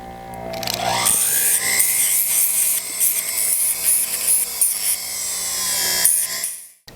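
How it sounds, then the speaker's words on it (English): A sanding disc grinds against a pottery flower for a necklace piece, a steady close-up rasping whir that holds for several seconds with slight scraping variations before cutting off abruptly at the end. "The next thing I like to use these sanding discs here."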